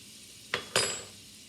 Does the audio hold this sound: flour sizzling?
yes